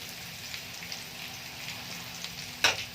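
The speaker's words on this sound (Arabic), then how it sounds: "هنفضل نقلب لغايه لما هنلاقي الكوسه نزلت ميتها" Zucchini frying in oil is turned in the pan, a steady close crackling sizzle with a low hum underneath, ending in a sharp louder clatter from the stirring.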